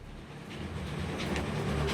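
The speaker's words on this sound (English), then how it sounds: "put a 1 in the chat if you can hear the Kismet love train" A Kismet love train sound alert from Fallout 4 comes through as a steady rumbling, rolling train-like drone lasting about two seconds, with faint higher tones, moderately quiet and with no talking.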